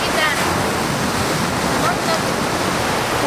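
Ocean waves wash against the shore of Hong Kong Island in a continuous rushing surf, roughened by wind buffeting the phone's microphone.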